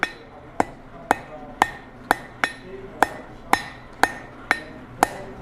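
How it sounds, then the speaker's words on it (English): Hot steel is hammered on an anvil to forge a point, giving eleven sharp ringing blows at a steady, even rhythm of about two per second, close and clear with no talk. "I'm going to bring it over here to the anvil, and I'm going to start by putting a points on it."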